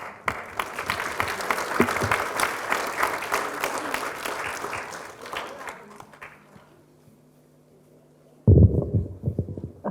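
An audience at a literary matinee applauds Maša with dense, sustained clapping for about six seconds, fading out before a loud thump.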